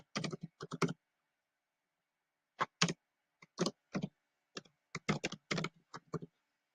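Quick bursts of computer keyboard typing with pauses between, rapid light key clicks close by, no voices.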